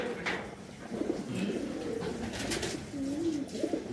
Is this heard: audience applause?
no